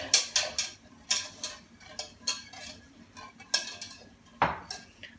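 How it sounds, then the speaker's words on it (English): Creamy pepper sauce stirred in a pan with a metal utensil, bright close clinks and scrapes tapping against the pan in an uneven rhythm, nobody talking. "pepper sauce needs constant agitation"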